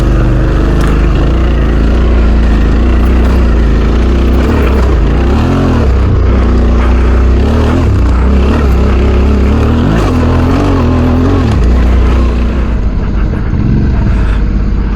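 Adventure motorcycle ridden along a rough off-road trail in a state park, its engine droning loud and close throughout with steady rumble, shifting revs and wind buffeting.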